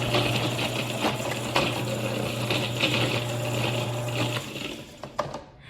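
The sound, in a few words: grinding herbs with solvent for a tincture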